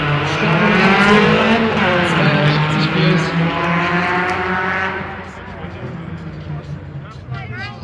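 A Porsche S and a Seat Toledo 16V launch side by side at a drag race start at a Hamburg car show, engines roaring loud and close before fading as they pull away, with an announcer talking over them.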